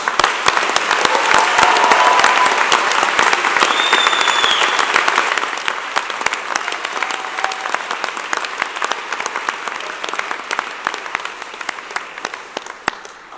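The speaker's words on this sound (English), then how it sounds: "let's have another round of applause for our award winners" Loud applause at a university convocation for award winners, thick clapping from a large audience that starts strong, then gradually thins and fades over about thirteen seconds, with individual claps becoming distinct toward the end.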